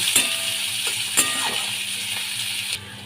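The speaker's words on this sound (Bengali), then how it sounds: "পেঁয়াজ কুচিগুলোকে আমি লাল লাল করে ভেজে নেব" Chopped onions frying in a pan for an egg dish, a steady close sizzle with a few sharp clinks and scrapes from stirring, and the sizzle drops away near the end.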